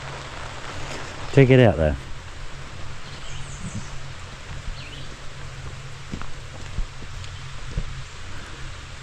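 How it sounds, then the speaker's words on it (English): Rain falling at a remote West Virginia campsite, a soft, even hiss that runs throughout, briefly interrupted by someone speaking close by. "the rain started"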